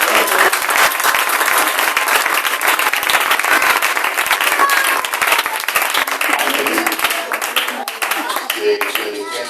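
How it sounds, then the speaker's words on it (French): A church congregation at a French-language worship service breaks into loud, continuous applause and cheering, dense clapping that carries on steadily for several seconds close to the microphone. "Est-ce qu'on peut acclamer?"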